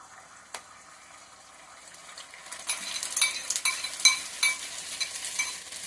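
Beaten egg hits hot oil on high heat, starting quiet and then bursting into loud crackling sizzle as a spatula scrapes and stirs it into scrambled egg in the pan.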